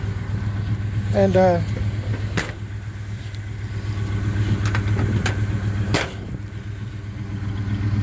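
The engine of a 1975 Chevy C10 pickup idles steadily as it warms up, a constant low hum heard up close, with a brief spoken word and a few sharp knocks and clicks over it.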